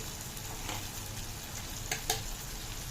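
Drumstick leaves fry in hot oil in a pan with a steady, soft sizzle heard close up, broken by a couple of small clicks or pops.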